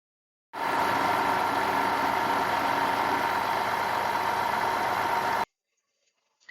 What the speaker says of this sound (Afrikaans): Die trekker of die lorry neem die saad na die silo's.